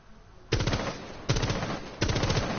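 Rapid automatic gunfire at a barricade in Rainbow Six Siege, three loud bursts of fast shots, each starting sharply and separated by brief pauses.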